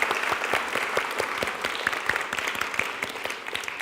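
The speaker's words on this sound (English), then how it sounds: "So would you give yourselves a round of applause?" A congregation gives itself a round of applause at a worship gathering, a full, continuous burst of many hands clapping close by, with individual sharp claps standing out in the steady roar.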